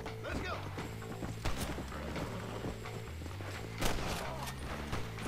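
Horse hooves clip-clop steadily on the ground in the Red Dead Redemption video game, a continuous rhythmic beat mixed with sharp game effects that sound like gunfire.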